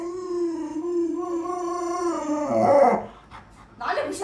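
Newborn puppies give a drawn-out, high, wavering whimper that slides in pitch, then ends in a rougher, breathy squeal and a short pause before another cry starts nearby.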